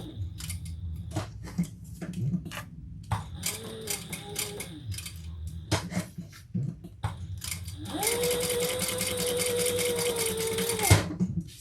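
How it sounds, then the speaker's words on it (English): Sewing machine top stitching a fabric bag: short bursts of stitching and handling noises at first, then a steady, close run of rapid stitching near the end. "we're going to sew down into that first mark, top stitch, and across and back up."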